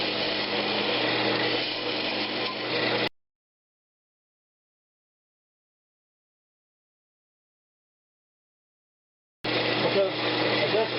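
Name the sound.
hollowing Brazilian cherry lidded box on wood lathe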